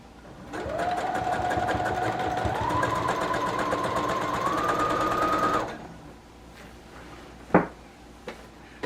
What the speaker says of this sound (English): So I'm going to sew the 3 inches.